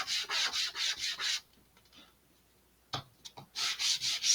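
Rhythmic rasping strokes of sandpaper on the wooden part of an Estes Loadstar II model rocket, close and steady, pausing briefly in the middle before the scrubbing resumes.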